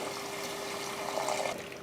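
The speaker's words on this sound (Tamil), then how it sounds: "அதுக்கப்புறமா மட்டன் வேக வச்ச தண்ணியும் இதில் ஊற்றிடலாம்" Mutton cooking water is poured into a pan of mutton kulambu, giving a steady, close splashing rush with a faint trickle, no voices.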